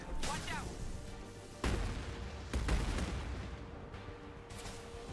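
Rockets explode in the Mass Effect shooter, striking as several sharp, heavy blasts over a dense din of combat, with a player talking across it.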